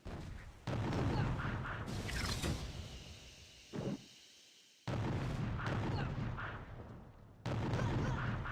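Heavy booming Doom cannon blasts in Boom Beach, several loud bursts separated by brief lulls, with mechanical clanks and rumbling between them.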